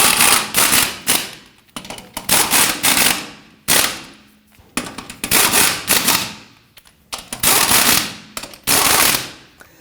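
Impact wrench snugging lug nuts on a 2007-2017 Jeep Patriot wheel, loud rattling hammering bursts repeated about six times with short pauses between, close and without talk.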